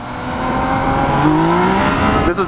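Yamaha XSR 900 motorcycle (2016) accelerating hard in B mode, its engine note rising steadily in pitch as it pulls, loud and close with continuous rumble throughout, a brief shift or dip near the end.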